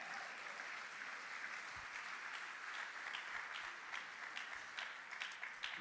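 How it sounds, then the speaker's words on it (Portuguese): Sustained applause from a church congregation, dense and steady clapping throughout, moderately loud. "Se você quer dar um aplauso ao Senhor."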